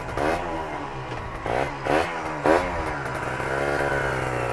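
A Yamaha MX King two-stroke motorcycle engine runs close by with a steady buzzing idle, broken by three short throttle blips that rise in pitch and then settle back.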